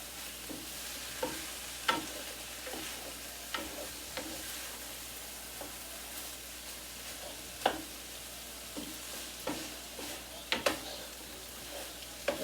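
Peppers and onions cook in a pan, a soft steady sizzle with frequent clicks and scrapes of a utensil stirring, fairly faint and without talk.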